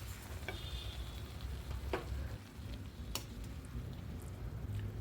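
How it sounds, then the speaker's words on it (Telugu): Ingredients dry roasting in a pan for a Telugu-style leafy greens roti pachadi give a low, steady crackle and faint sizzle throughout. Sharp ticks and pops stand out here and there, close and moderately quiet, with no voices. "ఈ నాలుగు డ్రై రోస్ట్ అయ్యేలాగా వేయించాలి"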